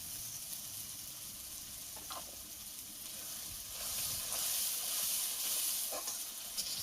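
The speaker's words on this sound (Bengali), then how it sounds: "একটু ভাজা হবে ভালো করে।" Chili paste and tomato paste fry in a pan for chicken curry, giving a soft, steady sizzle that grows louder and brighter partway through, with a few faint stirring clicks and no talk.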